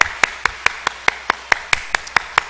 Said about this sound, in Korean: 우리 박수로 한번 환영합시다.